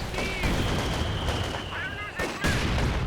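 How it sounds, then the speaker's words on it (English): Mortar shell impacts from a mortar half-track in Company of Heroes 2, heard as a dense, continuous wash of battlefield explosions and gunfire with a louder burst near the end and a voice talking over it. "great hit from the mortar. In fact, that's a mortar half-track from Imbbe"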